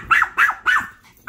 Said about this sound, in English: Come in the dog.